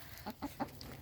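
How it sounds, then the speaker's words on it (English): A full-grown bantam rooster gives three short, close clucks at an even pace, with quiet pauses between them. "He's our full-grown Banty hen rooster"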